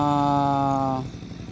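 A Massey Ferguson tractor engine runs with a steady droning hum for about a second, then cuts off abruptly, leaving low rumbling noise.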